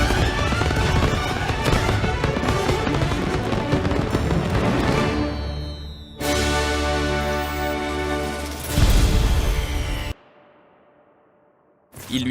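Loud, dense film explosions and blasts go off as soldiers' heads are blown apart, with booming bursts and gunfire-like cracks overlapping for about ten seconds. A sudden cut to near silence follows, then another burst begins.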